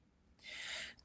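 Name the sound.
sneeze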